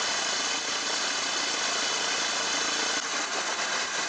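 A Mercedes Vito van engine with a suspected injector leak idles close by, a steady droning with a constant mechanical hum and no voices.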